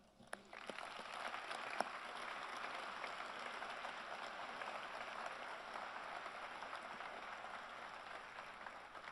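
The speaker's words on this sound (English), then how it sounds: "a warm round of applause, if you join me." Sustained applause from a large audience at a White House medal presentation for NASA Artemis II astronauts, a steady dense wash of clapping lasting the whole stretch, fairly distant and even in level with no talk over it.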